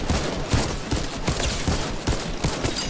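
Rapid gunfire in the Fortnite video game rattles in a dense, fairly loud stream of shots over a few seconds, with no clear talk.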